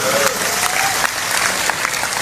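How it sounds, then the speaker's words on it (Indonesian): An audience at a humorous Islamic lecture breaks into steady, dense applause, many hands clapping at once close by and filling the hall without a break. "Tepuk tangan untuk Madura."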